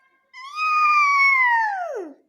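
A domestic cat gives one long, clear meow. It is close and loud, holds steady, then slides down in pitch at the end, with no other sound around it.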